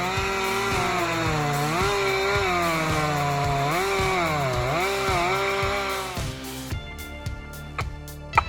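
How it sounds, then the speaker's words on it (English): A chainsaw roars steadily, its pitch dipping and rising as it cuts into a large old tree stump, loud and close, before the engine drops to a lower idle with a few knocks near the end. "The roar of the chainsaw cutting through the quiet."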